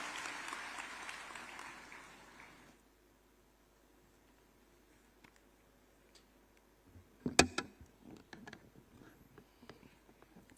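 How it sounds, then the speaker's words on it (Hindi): Audience applause at a Lucknow government event welcoming the Chief Minister: a couple of seconds of fairly soft clapping, then quiet hall ambience, then a burst of sharp, close thuds and clicks. "जोरदार तालियों से माननीय का स्वागत करें।"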